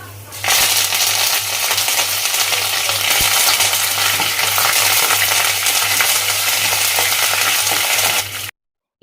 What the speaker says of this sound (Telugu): ఆయిల్ హీట్ చేసి అందులోకి పోపు దినుసులు అన్నీ కూడా వేసేసుకున్నాను